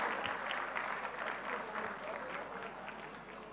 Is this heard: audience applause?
yes